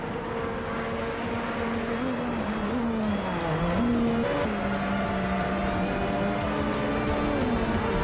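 A Group C2 race car laps the Daimler Test Track in a racing game, its engine a continuous close drone that rises and dips in pitch through gear changes and corners, heard alone.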